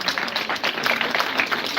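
A brief round of audience applause at a Chechen community event in Nice after young adults' performances: a soft, even wash of claps from a modest crowd, heard alone for a couple of seconds.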